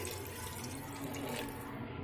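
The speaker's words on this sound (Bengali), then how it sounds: "এবার একটু জল দিয়ে দিলাম" Water pouring steadily into a pot of dalia khichuri, a continuous close splashing stream throughout with no pauses.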